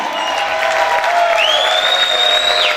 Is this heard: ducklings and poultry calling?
no